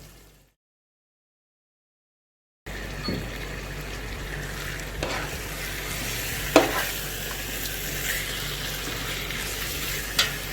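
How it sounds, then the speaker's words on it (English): Steady sizzling and bubbling of chicken pieces frying in a pot for biryani after a short silence, with occasional stirring clinks and scrapes. "Now I'll add in the washed chicken pieces."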